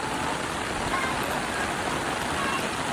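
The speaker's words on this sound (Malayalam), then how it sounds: "നല്ല മഴയാണ്" Heavy rain pours steadily and loud, a dense unbroken hiss of drops with no pauses throughout.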